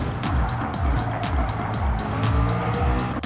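McLaren Ultimate VGT engine accelerating around Suzuka Circuit in Gran Turismo 7, loud and close, with revs climbing in repeated sweeps through quick upshifts and a faint tire squeal.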